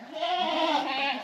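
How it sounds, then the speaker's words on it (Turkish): A single drawn-out goat bleat, wavering and nasal, sounds fairly close at a mountain campsite in Altındere, with no talk during it. "Anlaşmaya çalışıyoruz. Onların dilinden. Keçilerle."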